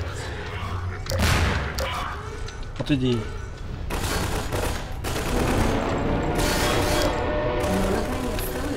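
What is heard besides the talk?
explosions in a video game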